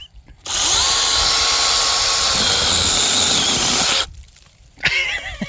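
A mini chainsaw revs at a steady high-pitched whine for several seconds, close and loud, then cuts off and briefly revs again.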